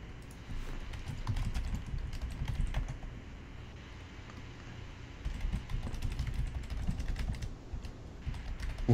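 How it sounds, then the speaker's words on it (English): Steady computer keyboard typing during a Counter-Strike: Global Offensive match, a dense patter of quick close key clicks over low game background rumble, with no talk. "What are you typing, bud?"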